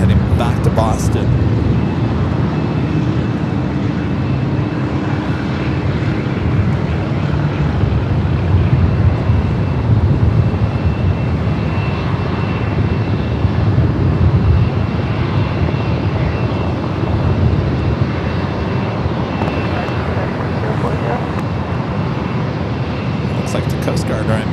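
JetBlue Airbus A321 airliner at San Diego airport, with a sustained broad engine rumble holding loud and near for the whole stretch and no voices on top.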